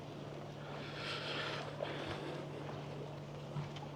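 A tour boat runs on the sea near the Amos ancient site on the Turkish coast, giving a steady engine hum with wind rushing over the microphone and faint water wash.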